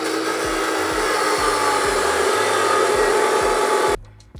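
Saw cutting metal stock for a custom chassis on a V10 Datsun 620 build, a loud steady grinding whine with a rhythmic low pulsing that runs for about four seconds, then stops abruptly.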